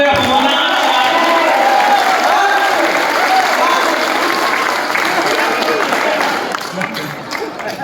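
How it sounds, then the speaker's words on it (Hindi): A large audience at a Hindi comedy poetry recital applauds loudly and steadily, a dense wash of clapping with some cheering that tapers off toward the end. "इतनी तालियों के बाद इतनी तालियां बजी"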